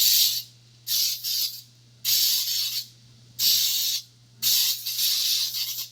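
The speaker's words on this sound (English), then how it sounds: "I'm going to spray it with some Baker's Joy." Baker's Joy flour baking spray hisses into a baking dish in five close, sharp bursts of about a second each, with short pauses between them and a faint steady hum underneath.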